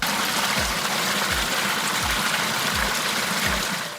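Water flowing continuously out of an old borewell hole at a house in Malur, a dense, steady gushing rush with faint regular low thumps underneath, loud and alone without any voices.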